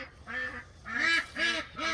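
Ducks at a Florida food forest after a hard freeze, kept near frozen water pans, quack loudly and raucously in three or four overlapping bursts, close by and with no talk over them.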